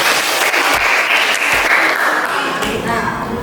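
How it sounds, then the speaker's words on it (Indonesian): Audience applause for a student group in a classroom session, steady clapping from many hands lasting throughout, fairly loud and close with no talk over it. "Kasih aplaus dulu dong untuk kelompok."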